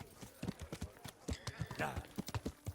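Horse hooves clip-clopping in quick succession as a rider gallops in the medieval game Kingdom Come: Deliverance, with someone talking over the steady hoofbeats.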